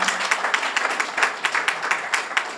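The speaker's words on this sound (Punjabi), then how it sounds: "ਜ਼ੋਰਦਾਰ ਤਾੜੀਆਂ" Loud applause from an audience, a dense wash of many hands clapping with rhythmic peaks, steady and close throughout the short burst.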